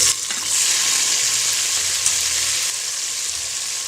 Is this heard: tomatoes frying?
yes